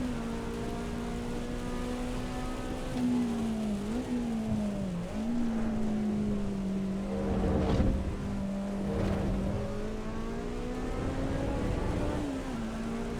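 A race car in Assetto Corsa Evo accelerates at full throttle, its engine note holding a steady, loud drone with small dips and climbs as the revs shift under load.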